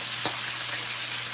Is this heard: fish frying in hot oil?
yes